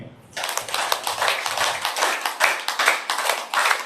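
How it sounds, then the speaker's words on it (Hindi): A class breaks into loud applause that starts abruptly and continues as brisk, close clapping from a modest group, sustained and heard alone. "तो आपके लिए जोरदार तालियां।"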